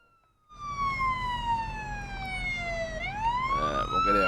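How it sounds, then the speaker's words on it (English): An ambulance siren in the police game Police Simulator: Patrol Officers wails in a slow falling then rising sweep, loud and close, over a low engine rumble with no talking. "Ambulance en route."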